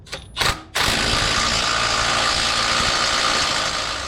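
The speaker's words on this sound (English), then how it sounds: "Just with the ratchet." Ratchet tightening a Panhard bar bolt during a Panhard correction kit install, a couple of brief clicks at the start followed by a loud, steady engine-like mechanical drone.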